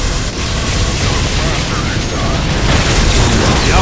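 An Unreal Tournament 2004 power node blows up, a dense loud roaring blast that rumbles on with crackling noise for a few seconds, alone without talk.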